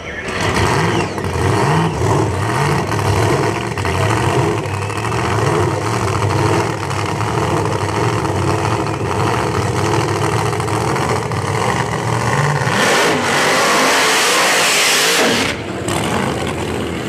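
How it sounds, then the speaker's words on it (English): A Chevrolet SS Camaro at a dragstrip during round one qualifying: a loud, sustained engine roar that holds steady and then surges sharply near the end as the car passes close by. "This beautiful SS Camaro coming by, first time we've seen it"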